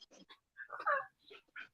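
A dog that wants to go outside pants in short, uneven bursts close by, with a few high whimpering whines breaking in between breaths and no talk.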